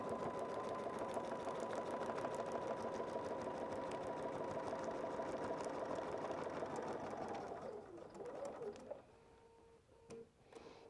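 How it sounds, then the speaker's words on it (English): A sewing machine runs steadily, stitching fabric along a line on a foundation-pieced quilt block, with a continuous even hum and rapid needle rhythm for most of the stretch before it slows and stops, leaving faint handling noises. "now we're going to sew on the line"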